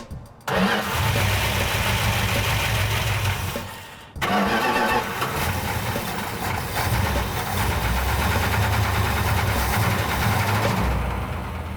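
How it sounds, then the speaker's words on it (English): A 1970 Plymouth 'Cuda V8 under restoration is started outdoors, then cuts out briefly before firing again and settling into a loud, steady, rumbling idle with some revving, close by and with no talk. "We're going to take the car outside and run it for a little while longer"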